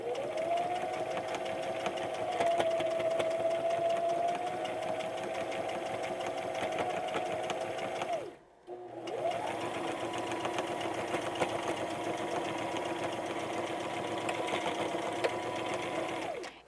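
A sewing machine stitches patchwork strips onto a pencil pouch with a steady, humming run, a brief stop partway, then continuous stitching again, close and alone.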